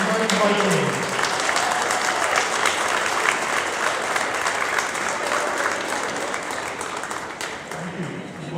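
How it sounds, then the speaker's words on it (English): A gym crowd applauds the 2021 Triton Vikings boys varsity basketball team before a home game against Hamilton-Wenham. The dense clapping is steady for several seconds and fades slightly at the end, with a voice audible near the start. "Let's give one more round of applause for the 2021 Triton Vikings."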